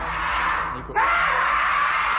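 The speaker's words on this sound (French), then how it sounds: "C'est impressionnant d'avoir cette femelle qui est en train de crier, et puis en plus on est sur un anthropoïde, c'est-à-dire un grand singe qui est proche de l'homme." A female great ape screams loudly and continuously in distress before being darted, with a harsh wailing cry that briefly dips and then rises again, close and sustained.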